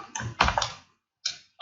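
A computer keyboard being typed on while entering C++ code, a quick cluster of close, crisp key clacks, a short pause, then two more separate taps, with no voice.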